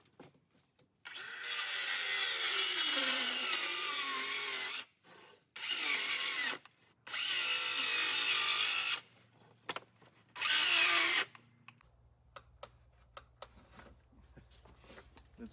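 A power saw cuts a wooden strip into short pieces for door shims in four loud, close bursts of whining, rasping cutting separated by short pauses, followed by quiet handling sounds.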